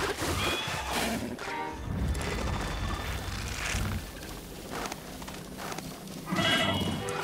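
A goat bleats repeatedly in Zelda: Breath of the Wild, its wavering cries rising and falling over busy game background sound, fairly close and loud.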